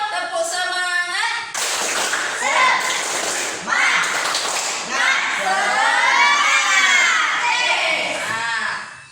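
Children in a classroom perform the 'tepuk semangat' clapping chant, with loud rhythmic group claps mixed with energetic chanting and shouting young voices throughout.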